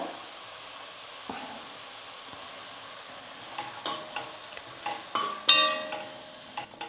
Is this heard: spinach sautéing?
yes